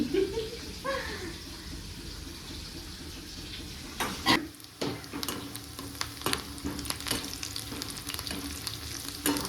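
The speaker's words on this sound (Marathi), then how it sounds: "कांदा परत भाजून घ्यायचा आणि त्याच्यात ते राहिलेलं वाटण टाकायचं हो." Chopped onion fries with leftover masala paste in a pan for a spicy chicken rassa curry, giving a steady soft sizzle broken by clattering stirring strokes partway through.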